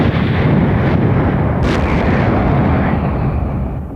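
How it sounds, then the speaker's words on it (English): Huge blasts demolishing a restaurant building, a continuous loud roaring rumble of explosions that barely eases over a few seconds. "The tremors felt yesterday were simply gigantic explosions"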